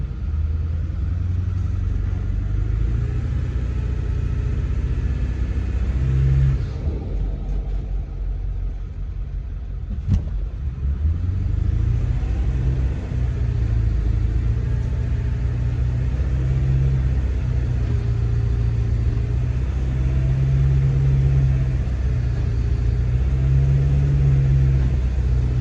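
Tractor engine running steadily while round baling hay in a field, a loud continuous low rumble with slight rises in load, briefly dipping midway before resuming; a voice speaks faintly at times.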